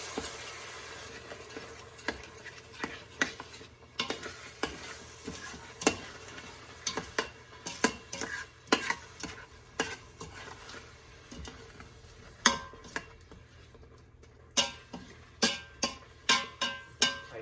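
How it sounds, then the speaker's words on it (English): Chicken tikka masala being stirred in an Instant Pot, a steady run of spoon scrapes and taps against the pot over a soft sizzle, growing busier and more rhythmic toward the end, close with no voices. "And mix this in, and this is going to cook for a few minutes."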